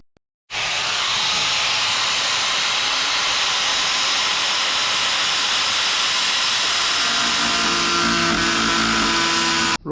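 An angle grinder with a cutting disc slices through a steel cruiser frame, making a loud, sustained, harsh metallic whine. The pitch shifts slightly as the cut progresses, and the sound starts abruptly after a brief quiet.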